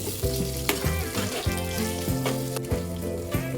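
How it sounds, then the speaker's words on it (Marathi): Two medium roughly chopped onions frying in oil with cumin, star anise and a cinnamon piece for butter paneer; loud continuous sizzle with regular knocking thuds and scrapes of a spatula stirring the pan, no voices. "त्यानंतर 2 मीडियम साईजचे रफली चॉप केलेले कांदे घालायचे आहेत"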